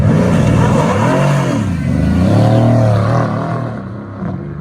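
A 2018 Mercedes-AMG C63 S with a twin-turbo V8 revs loudly and close, rising and falling through several throttle blips before settling toward idle.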